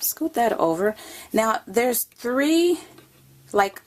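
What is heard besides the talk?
No distinct noise like a dog, phone or traffic.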